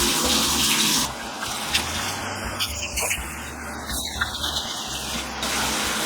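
Water poured from a bucket in a bathtub over short wavy, curly hair, a steady close splashing and running-water hiss that continues throughout with small bursts, and no talking.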